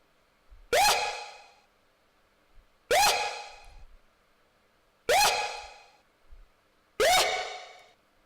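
A distorted, chorused vocal yell sample from Splice rings out four times at a steady, evenly spaced rhythm, each burst sharp and loud before decaying, with no other sound around it.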